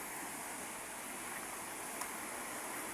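A river swollen after a full day of rain rushes past in a steady, even roar of flowing water, heard close and alone with no pauses.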